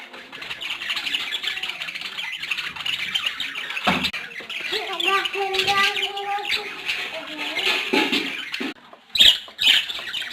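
Colourful pet birds kept at home chatter in a dense stream of squawks and chirps, up close and continuous, with a few sharper louder calls near the end.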